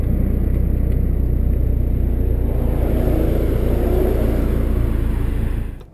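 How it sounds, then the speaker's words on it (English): Ford Mustang EcoBoost fitted with a MagnaFlow Street Series cat-back exhaust, producing a steady, deep, loud rumbling drone with a rising rev in the middle, before cutting off abruptly at the end. "The most V8 sounding exhaust I've heard so far for the EcoBoost Mustang."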